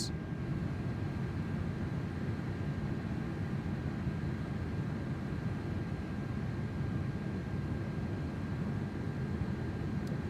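Steady, even airplane cabin drone from the Microsoft Flight Simulator game, a continuous broadband engine and airflow rumble that stays constant throughout with no talking.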